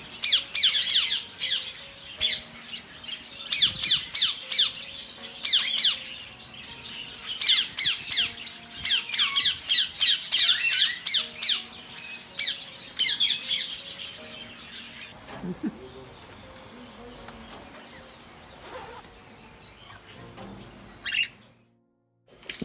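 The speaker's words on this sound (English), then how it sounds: "There were so many parrots," Loud, harsh parrot squawks in bursts inside a bird shop, many birds calling over one another nearby, the din easing toward the end with a few scattered calls.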